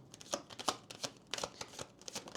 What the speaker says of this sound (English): I don't always shuffle the cards like that.